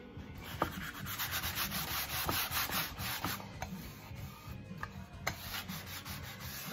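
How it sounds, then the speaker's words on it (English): Painted wooden furniture is being sanded smooth by hand, producing repeated rhythmic scratchy back-and-forth strokes of sandpaper on wood, close and fairly quiet, with no talking. "You can tell I did a little bit of sanding, but I'm gonna make sure I get this smoothed out pretty good."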